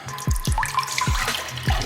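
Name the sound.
water filling a shaker cup with aminos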